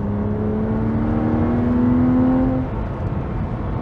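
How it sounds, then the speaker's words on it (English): BMW Z4 Coupe E86 with the 3.0si straight-six, heard from inside the cabin as induction noise rises in pitch while revving, then eases off, a loud smooth hum with no talking. "there's so much induction noise that is just emanating into this cabin"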